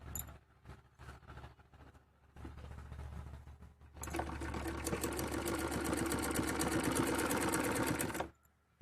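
A sewing machine stitching salwar fabric, first in a few short stop-start bursts, then running steadily in a close, fast rattling stitch before stopping abruptly.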